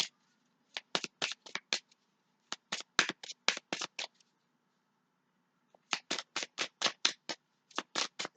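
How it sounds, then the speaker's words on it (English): Tarot cards being shuffled by hand in three bursts of rapid riffling flicks, close and crisp, with brief pauses between bursts and no talking. "I need to shuffle again because apparently there's another card that's coming out"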